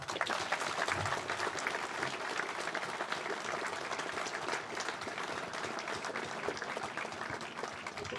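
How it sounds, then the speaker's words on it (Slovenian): Sustained, dense applause from a large outdoor crowd at a Slovenian Army battalion's tenth-anniversary ceremony in a military history park, steady and even throughout with no speech over it. "Dajmo še en aplavz."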